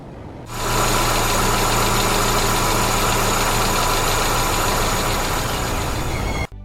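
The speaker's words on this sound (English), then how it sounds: "Something is wrong with the engine. That doesn't sound good." A car engine with a fault fires up and runs steadily for several seconds, giving a loud, close mechanical drone with a rough, vibrating tone. It stops abruptly at the end.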